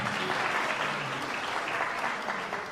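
Audience at a recitation contest in Chmielno applauds the dancers with steady, dense clapping that stays loud and even throughout, with no voices breaking through.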